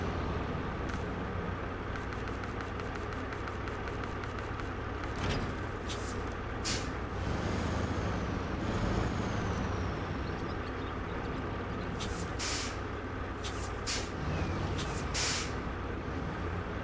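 Heavy truck in the off-road driving game SnowRunner, its engine rumbling steadily throughout with several sharp hissing air-brake releases spaced across the clip, close and loud.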